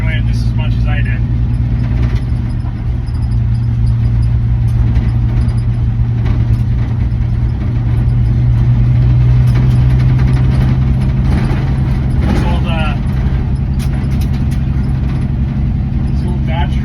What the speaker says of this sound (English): These old Dodge trucks are kind of hard to come by.